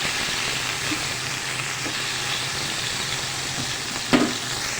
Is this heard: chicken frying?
yes